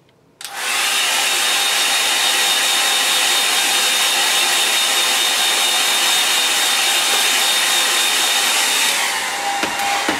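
A hair dryer drying a wet watercolour landscape painting switches on abruptly and blows with a loud, steady whooshing roar close by, then tapers slightly near the end.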